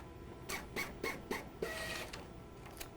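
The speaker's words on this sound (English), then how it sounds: "let's print a beautiful label with our brand new installed printer" Epson ColorWorks CW-C6000 label printer running a print job: a short series of rhythmic mechanical pulses and feed whirs, close and moderately quiet, with no voices.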